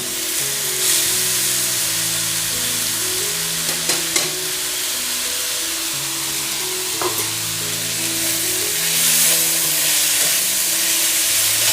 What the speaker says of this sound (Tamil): எல்லாத்தையும் சேர்த்து வறுத்துருங்க.